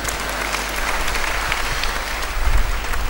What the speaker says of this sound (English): Clap for me and Mike.